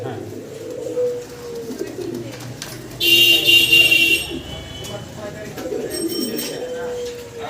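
Pigeons being shown for sale coo in soft, low, repeated calls close by, while someone talks over them, with a brief burst of brighter noise in the middle.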